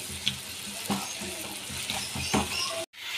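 Masala with red chilli powder stirred and frying in a pan, a steady close sizzle with a few scraping stirs and a brief cut near the end.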